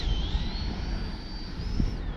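A Freewing L-39 Albatros RC jet with an 80mm electric ducted fan flies past, its high turbine-like whine holding steady and rising slightly, over wind buffeting near the microphone.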